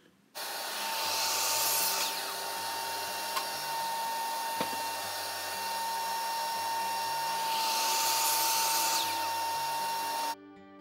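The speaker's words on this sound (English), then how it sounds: "Just creating a chamfer here on the legs. Once again, using the router table." A router table cuts a chamfer along wooden legs for a bar fridge stand. It makes a steady, loud, high whine with a constant tone for nearly ten seconds, then stops sharply.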